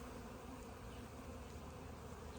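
Faint, steady buzzing of bees, continuous and unbroken against a soft outdoor hiss.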